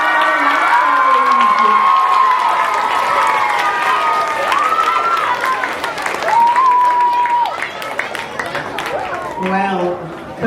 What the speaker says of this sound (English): Another round of applause for all of our students